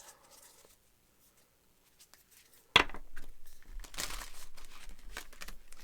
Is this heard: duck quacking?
no